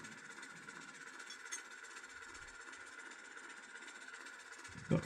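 A Heljan model BR Class diesel locomotive's upgraded speaker hums a steady engine idle, a constant mechanical drone with a faint tick near the start and a brief clunk at the end.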